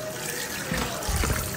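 Tap water runs while chicken is washed with turmeric in a kitchen sink, a steady close trickle and splash that lasts through the whole short moment.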